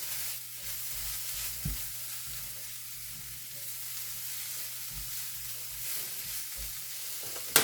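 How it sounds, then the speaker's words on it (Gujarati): Kashmiri chili powder being stirred into a masala of coriander-cumin powder in a hot pan, a steady soft sizzle with a few scraping knocks of the spoon. "કાશ્મીરી મરચું નાખીશું. તેને મિક્સ કરી દઈશું."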